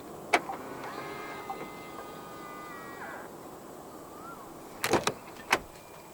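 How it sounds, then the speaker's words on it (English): Keyless unlocking of a 2025 Chery Tiggo 8 1.5 TGDi plug-in hybrid through the driver's door handle: a few sharp clicks, then a soft whirring motor sweep mid-clip, closing with a cluster of loud latch clicks, close up in a quiet setting. "And to unlock the car, just press the indented area on the driver's side door handle again."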